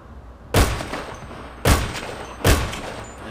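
Three loud, sharp Marksman Rifle MK2 gunshots from a video game sound mod, each a sudden booming crack with a short decaying tail, spaced about a second apart.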